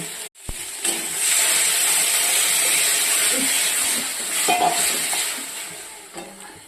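Water poured into sizzling, well-fried spiced masala in a pan for an egg curry bursts into a loud, sustained hiss and bubbling sizzle that slowly eases, with occasional utensil knocks and no talking.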